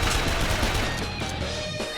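Rapid gunfire in the indie game Bob the Schizo, a dense continuous burst of loud shots and crashing impacts filling the whole two seconds without a break.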